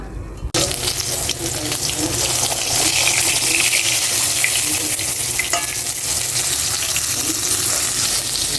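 Hilsa fish frying in oil in a pan, giving a loud, continuous, close crackling sizzle throughout, with no talk.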